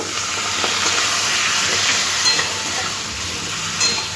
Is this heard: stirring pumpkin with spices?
yes